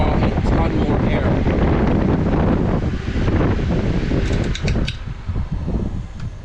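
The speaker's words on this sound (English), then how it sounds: "I'm gonna switch over to the big fan here" A big electric cooling fan on a K24-swapped Honda CRX runs steadily, a loud, close, broadband rushing whoosh of air that holds without pause, with a few faint clicks and knocks mixed in.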